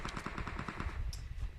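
Rapid automatic gunfire from the video game PUBG Mobile, a fast, even burst of about a dozen shots that sounds close and fairly loud, heard with no talking over it.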